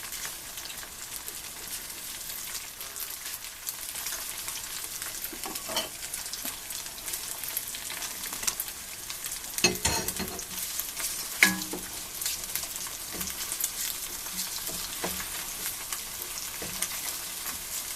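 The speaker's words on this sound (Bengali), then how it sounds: "জালটা একটু বাড়িয়ে দিয়ে এভাবে আমরা নাড়তে থাকবো" Chinese-style vegetables stir-fry over raised heat in a pan with soy sauce, giving a steady close sizzle broken by occasional scrapes and knocks of the stirring utensil.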